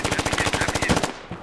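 A rapid machine-gun burst in the military shooter Squad, a loud, close stream of evenly spaced shots lasting just over a second.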